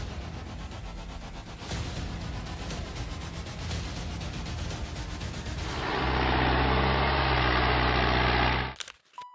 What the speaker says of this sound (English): The Morbark 50/48X is a powerful horizontal grinder designed for high-capacity wood processing.